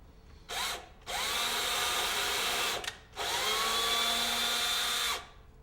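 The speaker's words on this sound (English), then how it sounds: "I'm going to use the same size steel screw to pre-thread the hole." A power drill drives a steel screw to pre-thread a hole for a door set, whirring in two steady bursts separated by a short pause, close and clear with no talk.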